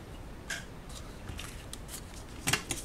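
Scissors snip paper in short, faint, scattered cuts while a gift box is being made, several quick crisp snips close by with quiet gaps between them.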